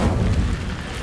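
An Incendio fire spell cast in Hogwarts Legacy, a brief, loud, roaring whoosh of flame with heavy low rumble and crackle, fading slightly across about a second.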